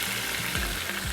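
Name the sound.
tomatoes and water added to a pan of fried onions, sizzling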